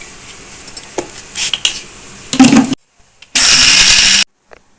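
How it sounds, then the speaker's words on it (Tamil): Ragi flour and grated coconut are roasted in a pan, with a spatula scraping and stirring against the metal and a faint sizzle, close by, ending in a burst of louder scraping and no voices. "இப்போ இந்த மாவு வறுத்துட்ருக்கோம் இல்லையா, இந்த வறுத்துட்ருக்கோம் இல்லையா தேங்காயும் மாவையும்"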